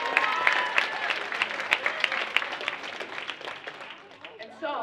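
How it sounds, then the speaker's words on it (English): Conference audience at a youth-in-crisis event clapping, a full round of applause with crisp individual claps, strong at first and gradually thinning out before a voice returns at the close. "Give yourselves a round of applause."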